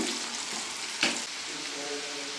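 Mutton kebab pieces sizzle steadily in hot oil in a pan, close and constant, with a single scrape as they are stirred.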